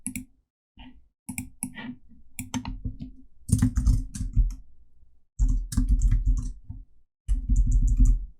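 Computer keyboard keys are pressed for the Ctrl+Alt+G shortcut while working in Photoshop, loud close clicking in several quick bursts separated by short silent pauses.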